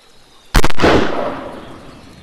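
A single loud, close gunshot in a wild deer hunting game, a sharp crack followed by a long decaying echo that fades over about two seconds.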